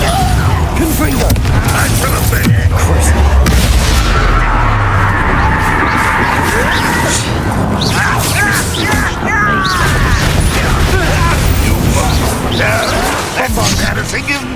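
A Confringo fire spell explosion in the video game Hogwarts Legacy, heard as loud booms and crashing impacts within busy combat noise, with voices speaking over the fighting.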